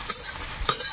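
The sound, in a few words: chopped onion frying in oil with cumin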